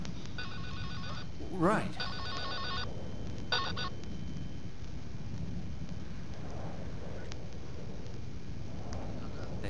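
A telephone rings in Silent Hill: Shattered Memories during a storm, three bursts of a bright electronic trill in quick succession over rumbling rain, with brief speech.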